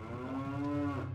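A cow in Zelda: Ocarina of Time gives one long, close, sustained moo, loud and alone with no talk over it.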